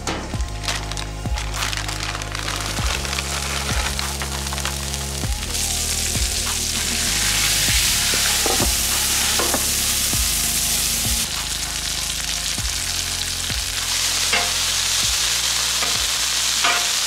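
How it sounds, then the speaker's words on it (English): Vegetables sizzle loudly on a hot Blackstone griddle. The hiss swells into a dense, continuous crackle a few seconds in, over a steady stepped tonal backing that sounds like music, with no speech. "Throw the veggies on now."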